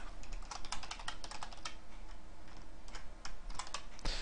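Rapid clicking keystrokes on a computer keyboard come in quick bursts and short pauses, close and clear with no voice over them.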